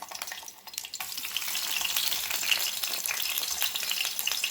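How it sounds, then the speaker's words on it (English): Breadfruit strips sizzle and crackle steadily in hot oil in a frying pan, a close, continuous frying hiss with no talking. "what we're gonna do now is take it and put it in the hot frying pan"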